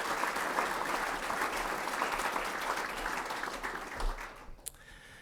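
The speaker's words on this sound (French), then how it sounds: "Une bonne main d'applaudissement, Claude." Audience applause fills a French-language event hall at a company announcement, steady broadband clapping from a crowd for several seconds before thinning out and ending with a few scattered claps.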